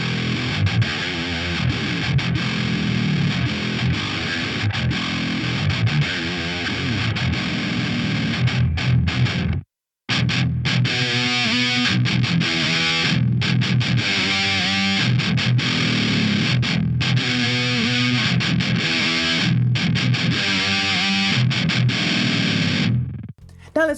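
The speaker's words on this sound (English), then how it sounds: "you can really have some fun with this trem bar" Heavily distorted Aria Pro Jet baritone electric guitar, loud and continuous, with wavering pitch dives and bends from a tremolo bar, briefly cutting out near the middle.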